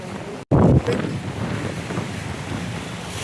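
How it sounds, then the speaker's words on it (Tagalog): Strong ocean waves roll in at the beach in San Nicholas, Batangas, with a loud gusty rush of wind and surf after a brief dropout, then a sustained churning wash. "Ang alon, ang lakas."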